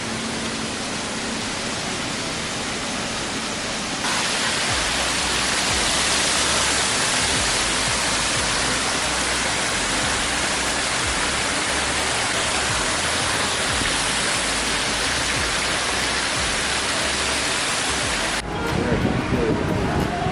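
A small waterfall at the Royalton Negril resort in Jamaica rushes in a constant broadband hiss, loud and close for the whole stretch, with no voices heard above the splashing water.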